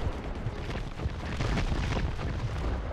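Airstrike explosions in the video game Dirty Bomb rumble in a dense, continuous barrage of booms and blasts, loud and near, with no speech over them.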